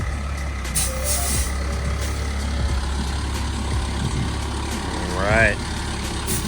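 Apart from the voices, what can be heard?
tow truck unloading a BMW 335i, air brakes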